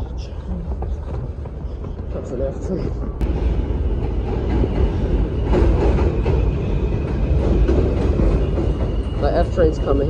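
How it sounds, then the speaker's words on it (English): An F subway train rumbles into a Brooklyn station with a deep, loud roar, steady rattling and a rising screech, while people talk nearby. "The F train's coming."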